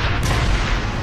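Heavy, booming gunfire in the video game Gears of War 2 rolls on continuously and loudly, with dense blasts and no talking.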